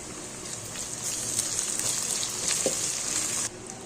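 Curry in a pan for a bitter gourd fry, frying and simmering with a steady, close hiss and crackle, with fine sputtering that drops away abruptly near the end.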